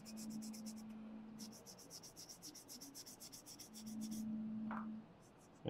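Rhythmic rasping strokes of sandpaper or a metal file smoothing a plastic part from an Idea Lab USS Enterprise model kit, close and steady in two bursts with a brief pause between.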